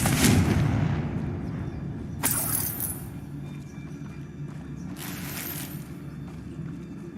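A Confringo blasting spell from Hogwarts Legacy erupts three times at a bridge, each a sharp bright burst that decays over a low rumbling backdrop, with no talking over the blasts.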